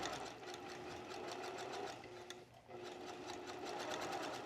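A sewing machine stitches twill tape onto fabric as the cloth feeds through, a steady fast mechanical whirr with a brief slowdown midway, heard close and fairly quiet.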